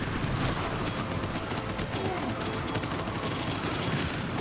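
Rapid automatic gunfire rattles continuously as the player shoots an elite enemy in the roguelite FPS Abyssus, a dense, loud, steady stream of shots that fills the whole stretch, with combat effects layered underneath.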